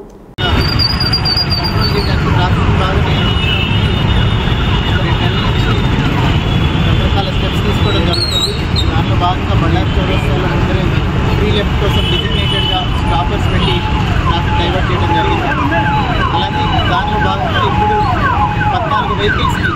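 Police vehicle sirens wail continuously on a city street in Adoni, loud and repeating, with traffic and engine noise underneath throughout.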